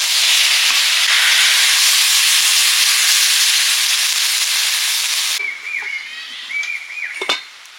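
Water poured into a hot pan of Bengali fish curry with potatoes and green chillies gives a loud, sustained steam hiss that cuts off abruptly, followed by softer sizzling and bubbling.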